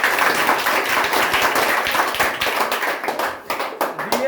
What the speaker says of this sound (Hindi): एक बार और इसके लिए ताली लगाओ।